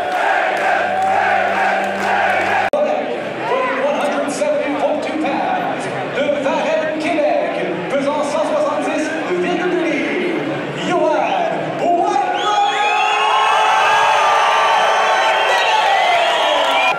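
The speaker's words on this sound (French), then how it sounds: "Toujours du monde qui crie fort pour Yohan Lennes." A crowd at a TKO MMA event shouts and cheers loudly with a roaring, sustained din, rising toward the end, while voices talk over it.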